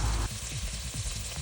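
Onion, ginger and green chili sizzle in hot ghee for prawn masala, a close, steady frying hiss with a louder burst at the start and soft stirring scrapes beneath.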